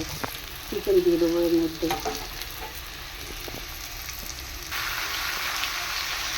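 Chicken dropped into a pan of frying onions and spice paste, sizzling and crackling loudly as it is stirred with a utensil, then settling into a steady hiss, with a brief spoken comment.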